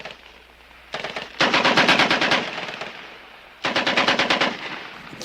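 Bursts of machine gun fire, loud and close, in two long rapid rattling volleys separated by a brief lull, with no voices over it.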